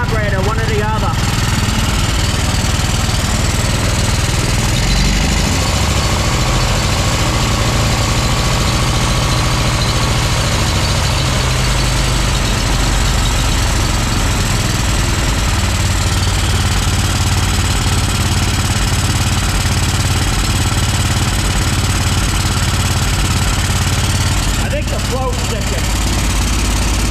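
A Kohler CH20 engine, freshly rebuilt for a Walker MTSD mower and suffering carburetor trouble, runs loud and steady close by as a constant heavy drone, its pitch shifting slightly at times as it hunts.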